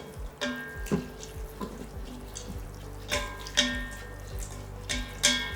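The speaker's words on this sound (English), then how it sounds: "We're gonna add our dal in with some water." Water poured into an Instant Pot holding dal for a Kerala parippu curry, heard as intermittent splashing and trickling bursts with small drips between them, close up and with no talk.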